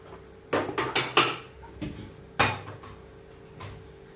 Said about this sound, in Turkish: Bu sadece benim bulaşıklarım yani.